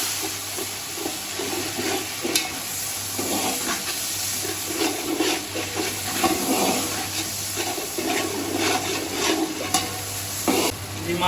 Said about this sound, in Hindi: ये प्याज और अदरक लहसुन अच्छी तरह से फ्राई हो गया, अब हम इसमें डालते हैं टमाटर।